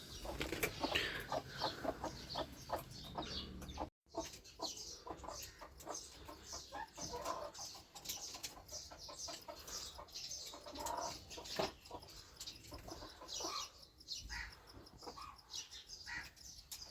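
Local hens cluck continuously and close by, a busy, steady barnyard chatter of several birds with no talk over it.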